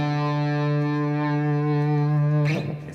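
Distorted electric guitar playing the riff, a single sustained buzzy chord ringing loud and steady, then abruptly cut off by a short scrape near the end.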